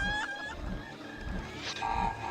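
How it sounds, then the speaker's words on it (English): A flock of chickens in Heroes of Might and Magic IV sends out scattered, faint clucks against a steady hum of tonal game sounds, with a few brighter calls near the end. "A lot of chickens."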